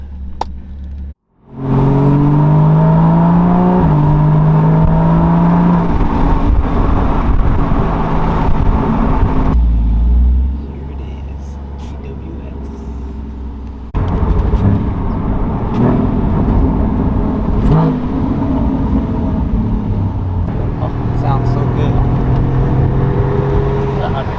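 A Porsche 981 Cayman drives along a road, with a steady, loud engine and road drone that runs almost throughout, dips briefly midway, then carries on, while a person talks over it.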